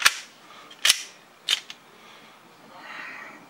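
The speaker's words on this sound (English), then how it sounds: "Let's just shoot it and see if it works." An airsoft Glock pistol fitted with a rocket valve fires three sharp, snappy shots at irregular intervals, close and fairly loud, followed by a faint hiss.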